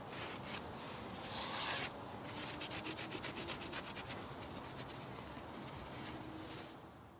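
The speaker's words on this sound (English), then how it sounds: "I added a bit of dressing by hand to the floating disc bell as it was looking a little washed out" A hand rubs dressing onto a motorcycle's floating brake disc bell, making steady, close, soft rubbing strokes that repeat in a brisk back-and-forth rhythm, with no talking.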